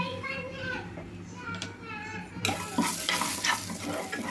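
Spices sizzle and crackle in hot oil as a spoon stirs the pan, growing louder halfway through, with children's voices faintly in the background.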